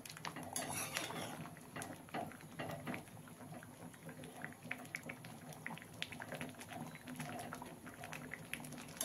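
A spoon stirs varanphal, spiced dough pieces simmering in lentil dal, in a cooking pot, with faint scattered clinks and scrapes of metal against the pot over a low bubbling background, quiet and close.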